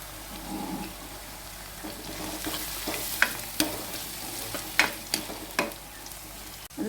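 Crushed ginger and garlic fry in hot oil in a pan for chicken curry, a steady close sizzle with several sharp crackles and stirring clicks, no voices.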